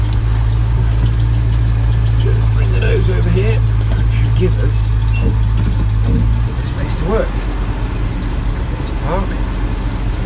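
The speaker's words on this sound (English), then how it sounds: "to leave it to run for a second or two, get the engine a little bit warm" A Land Rover 90 with a V8 engine idles after a cold start, its low, steady rumble loud and close throughout, while someone talks over it and the engine note dips slightly partway through.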